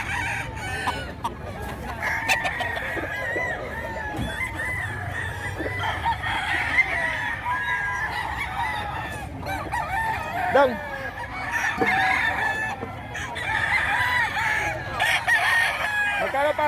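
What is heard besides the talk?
fighting roosters crowing at market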